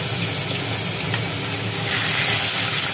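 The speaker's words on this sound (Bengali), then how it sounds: "লেবুর রস, নুন হলুদ মাখানো কাতলা মাছের পিসগুলো এবার ভাজা হবে একটা একটা করে" Catla fish pieces coated in lemon juice, salt and turmeric fry in hot oil, a continuous close sizzle and crackle that rises slightly toward the end, with no voices.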